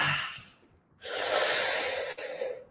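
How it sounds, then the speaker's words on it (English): A loud, breathy exhale voiced as a release during a guided connected-breathing exercise, rising suddenly after a quiet inhale and sustaining for over a second before a short break and a fading tail. "Exhale with a sound,"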